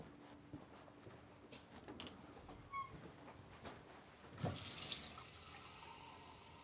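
Water runs from a tap into a sink in a camper van build, starting as a steady broadband rush partway through after quieter handling sounds, then continuing evenly to the end.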